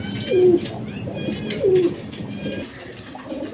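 Pigeons at a farm, high-flying Giribaz breed, give two clear, near coos in a row against faint background noise and chirps.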